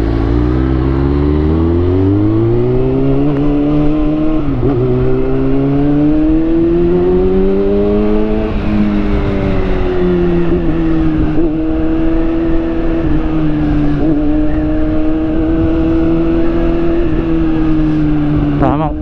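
A motorcycle engine revs hard and close, its pitch rising and falling in repeated throttle swells over a constant loud drone, with no talk heard.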